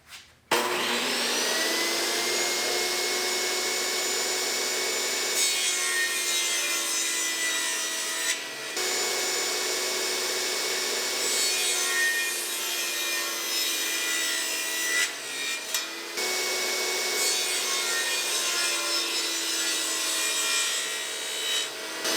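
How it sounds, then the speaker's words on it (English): A saw cuts wooden trim at a 45-degree angle for a Christmas tree planter box, giving a loud, continuous whining rasp close by, broken by a few brief pauses between passes, with no voices. "Alright, so we got to go ahead and cut a 45. I'm going to start cutting my trim out."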